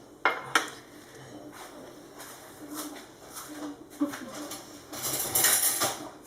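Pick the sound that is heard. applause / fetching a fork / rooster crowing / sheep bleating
fetching a fork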